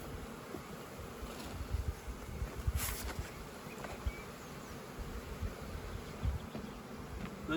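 Dense, steady buzzing of many honey bees crowding a hive split, a continuous near drone with soft rustling and brief louder bursts throughout.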